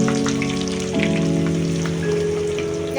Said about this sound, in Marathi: तेल गरम झाले आणि गॅस फास्टच ठेवायचं. आणि आपण आता हा कांदा त्याच्यामध्ये टाकू.